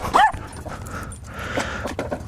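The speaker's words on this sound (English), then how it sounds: "dog's freaking out" A dog yips, whimpers and barks in agitated short bursts in a yard, fairly close, with outdoor background noise around it.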